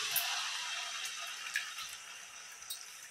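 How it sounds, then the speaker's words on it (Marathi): Water poured into a pan of sautéed eggplant seasoned with turmeric and curry leaves makes a soft, low splashing hiss with a few light drips, fading toward the end. "त्याच्यात पाणी घालून घ्यायचं."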